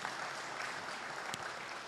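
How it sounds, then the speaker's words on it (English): An audience at a public lecture claps for the event sponsors. The applause is a soft, even patter heard from a distance, with no voices over it. "And please, another round of applause, ladies and gentlemen, for our sponsors."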